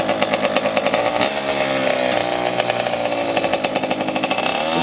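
A small motorcycle engine runs with a steady buzzing drone and harmonic whine, loud and continuous throughout, with no speech.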